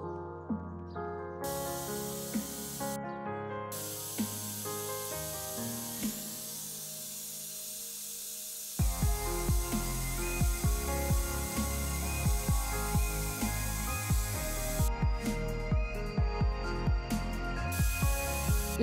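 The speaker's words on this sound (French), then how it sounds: "activer le spray sous sa tête sans opposition" Spray bursts near a dog during desensitization training, short repeated hisses spaced a second or so apart, close and fairly loud, with steady music playing underneath.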